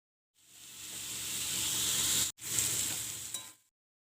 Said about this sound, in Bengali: পেঁয়াজটার সাথে আলুগুলো ভালো করে মিশিয়ে আরও আমি 1 মিনিট ভেজে নেব।